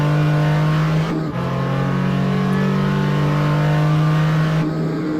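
Porsche 935 K3 race car, number 55, in a historic sportscar racing sim at Mid-Ohio, its engine holding a loud steady drone with a brief dip in pitch as it shifts, then droning on alone.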